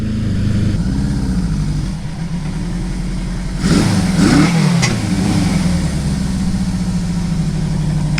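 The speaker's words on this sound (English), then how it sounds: "It's chugging along. My good old Honda CB750, probably the most reliable bike I have right now." A Honda CB750 motorcycle engine chugs steadily while riding, a loud, close, continuous low drone with a brief rise in revs midway before settling back to an even rumble.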